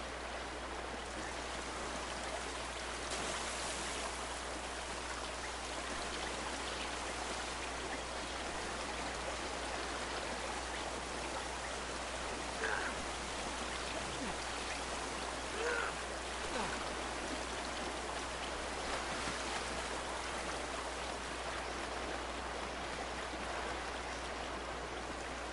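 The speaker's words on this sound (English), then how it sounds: "Is it gonna make me go off the waterfall?" Steady broadband rush of a waterfall in a PS4 video game, continuous and even throughout, like rain or a flowing stream, with faint talk at moments.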